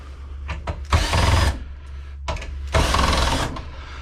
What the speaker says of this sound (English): Take all the screws out.